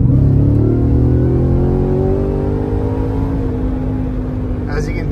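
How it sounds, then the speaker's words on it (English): Ford Raptor R engine with the stock intake pulling hard, a loud, close, continuous roar that climbs steadily in pitch as it accelerates, then eases toward the end. "we're gonna do one more pull with the stock intake just for good measures here"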